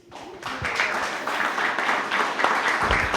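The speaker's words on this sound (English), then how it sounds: "Give a big round of applause" Audience applause at a pitch competition starts abruptly and holds as a dense patter of clapping, with a faint voice or two briefly under it.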